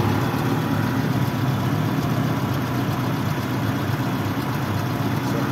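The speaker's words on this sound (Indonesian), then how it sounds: "Cuma kayaknya ada knalpot ini yang bocor ini." A car engine idles steadily with a leaking exhaust, a continuous low rumble held at an even level throughout, close by with no talking.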